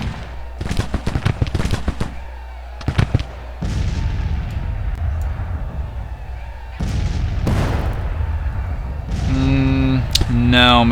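Artillery fire in an American Civil War strategy game: repeated loud booming shots arriving in clusters, with rumbling decay between them and voices talking over parts of it.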